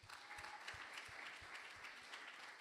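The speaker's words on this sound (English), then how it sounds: "Let's give him another round of applause." Round of applause from an audience at a spiritual talk, steady dense clapping continuing throughout at moderate volume, no voices over it.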